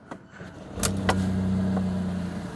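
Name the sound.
Fiat Panda Hybrid engine starting via electric motor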